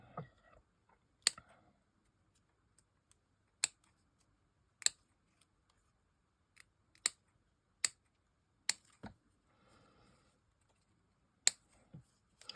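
Scissors cutting out the middle of a piece, sharp isolated snips spaced a second or so apart over twelve seconds, close and crisp against a near-silent background with faint rustling.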